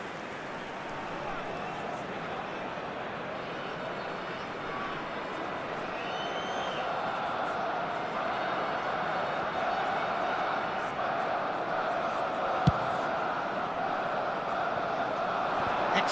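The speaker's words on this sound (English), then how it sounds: "certainly gave this crowd something to really cheer about" A stadium crowd in the eFootball 2026 football video game keeps up a broad, sustained roar that swells slightly toward the end, with a single sharp hit near the close.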